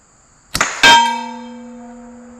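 A steel gong struck by a PCP air pistol pellet at 55 yards outdoors gives a sharp distant-sounding shot followed by a bright metallic clang whose pure ringing tones sustain and slowly fade, with no talk.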